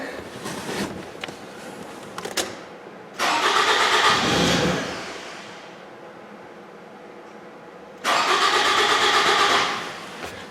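A Toyota Camry with a suspected failed fuel pump cranks without starting, two long whirring starter bursts of a few seconds each, loud and close, separated by quieter pauses and no speech.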